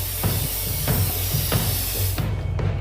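A spray paint can hisses in the video game Infamous: Second Son, a steady spraying hiss broken by regular rattling pulses about every third of a second, ending abruptly near the close.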